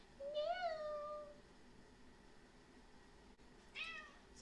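A cat meows twice, a drawn-out rising-and-falling cry followed a few seconds later by a shorter meow, fairly close against a quiet room.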